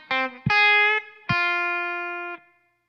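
Electric guitar with an effects-laden tone plays the second measure of a solo: a short note, then two longer sustained notes, each struck with a clear attack and left ringing alone before cutting off.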